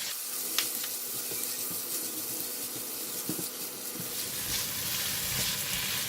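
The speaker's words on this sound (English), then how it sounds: "I'm just going to put in only 1 teaspoon of Tom Yum paste first." Tom Yum paste frying in a pan with prawns, kaffir lime leaves and onion, a continuous close sizzle with light stirring scrapes and clinks, the hiss thickening toward the end.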